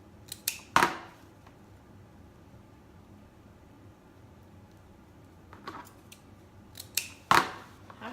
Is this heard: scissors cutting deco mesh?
yes